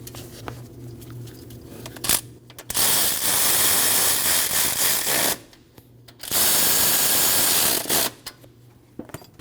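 A ratchet tightens the two nuts on the high-pressure fuel pump of a 2012–2021 Nissan NV2500 van with a 5.6L V8, making two loud, sustained bursts of fast clicking separated by quieter pauses.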